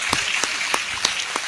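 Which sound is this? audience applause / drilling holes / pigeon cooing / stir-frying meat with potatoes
audience applause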